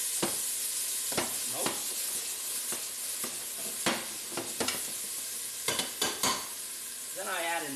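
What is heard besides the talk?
chicken browning and sizzling in a pan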